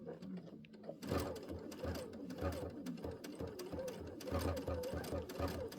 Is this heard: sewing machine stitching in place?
yes